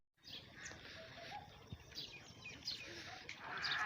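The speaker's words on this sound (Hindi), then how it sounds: "गांव के कबूतर" Pigeons in a village during pigeon-flying season, with scattered faint chirps and calls over a busy outdoor background and occasional sharp clicks.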